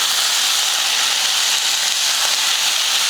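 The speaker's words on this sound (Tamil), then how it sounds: "தக்காளி சேர்த்துட்டு புளியும் கொஞ்சம் சேர்த்து நல்லா இதை தக்காளி சாஃப்ட் ஆகிற வரைக்கும் வதக்கிக்கலாம்" Tomatoes and tamarind sauté in a pan for chutney, giving a continuous, fairly loud, even hiss with no pauses or voices.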